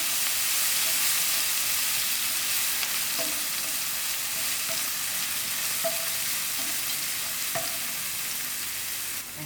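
Chopped onions with ginger and garlic fry in a pan and get stirred, making a steady close sizzle broken by a few soft utensil scrapes and taps, with no talking.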